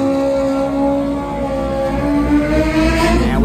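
A pro street drag motorcycle makes a solo run at a drag racing event, its engine a loud, continuous roar climbing steadily in pitch as it accelerates.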